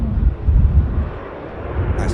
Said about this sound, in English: Ryanair arrival, that's touchdown, Ryanair flight 35, Boeing 737-800, arriving from Bratislava